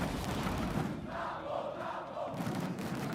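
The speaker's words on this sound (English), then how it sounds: "Listen to the crowd just cheering." A large esports arena crowd cheers during a League of Legends MSI 2017 match between Red Canids and Rampage, a steady, dense roar filling the space with no pauses.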